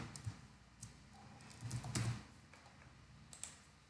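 Keys tapped on a computer keyboard, a sparse run of close clicks with a brief faster burst in the middle, quiet and alone without talk.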